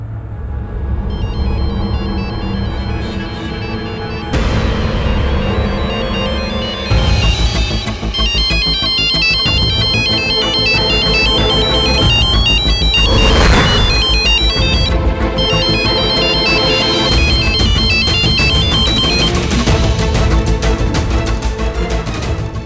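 A mobile phone ringtone plays a loud, steady electronic melody with bright repeating tones, running unbroken for the whole stretch with no voices.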